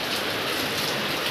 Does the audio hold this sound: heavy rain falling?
yes